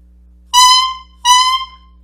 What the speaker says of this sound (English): and when we blow on it, the mouthpiece sounds like this.